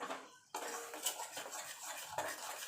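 Utensil scraping and clinking against a pan as sour yogurt is stirred in for a dhaba-style paneer masala, a sharp onset then steady close scraping with a couple of brief clanks.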